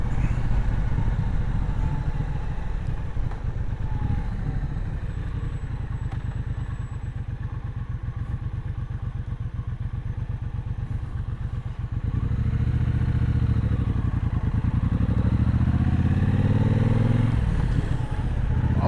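A motorcycle engine runs loud and close with a rough, pulsing rumble that deepens and swells toward the end.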